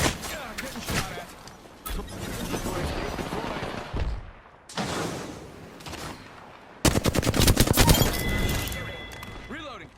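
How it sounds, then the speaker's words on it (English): Video game gunfire sounds in bursts of rapid shots throughout, growing loudest in a dense volley near the end, with talk heard between the shots. "Getting shot at."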